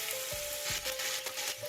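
Chicken pieces being browned in hot oil for yakhni soup sizzle steadily and close by, with a dense, even crackle and a couple of soft stirring scrapes, no voices.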